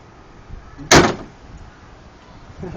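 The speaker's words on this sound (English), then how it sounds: "when I put the hood down" Hood of a Pontiac Firebird being shut, one sharp loud metallic slam in a quiet garage with faint room noise before and after.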